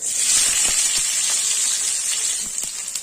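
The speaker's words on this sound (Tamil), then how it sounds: "இப்போ உருளைக்கிழங்கு சூடு பண்ணி எடுத்த எண்ணெயிலேயே பெரிய வெங்காயம் பொரிச்சு எடுத்துக்கலாம்." Large onions fry in hot oil already used for potatoes, giving a steady, bright sizzling hiss with a few soft pops.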